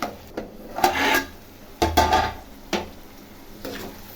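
Potatoes and onions being stirred in a cooking pan, several separate scraping, rustling strokes of a utensil against the pan with short pauses between them, close and fairly soft.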